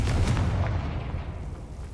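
A Confringo blasting spell explodes in the Hogwarts Legacy video game as a deep, loud boom that rumbles and slowly fades over two seconds, with no voices.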